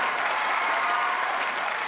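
A studio audience on a Marathi comedy show, Chala Hawa Yeu Dya, claps steadily for guests Umesh and Spruha, a dense, even wash of applause lasting the whole stretch with no talk.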